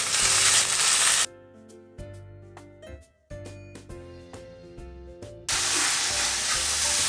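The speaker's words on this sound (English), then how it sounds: "And then we add in the noodles, stir it all together." Noodles are stir-fried in a pan for a traditional Chinese dish, giving a loud steady sizzle at the start and end. A quieter stretch in between carries background music.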